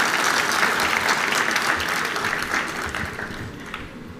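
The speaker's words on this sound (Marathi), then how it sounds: "आपण माननीय मंत्री महोदयांचं जोरात टाळ्या वाजवून आपण स्वागत करूया." A crowd applauds loudly to welcome a minister at a Maharashtra state public Ganeshotsav mandal competition event, a dense sustained wash of clapping that slowly tapers off toward the end.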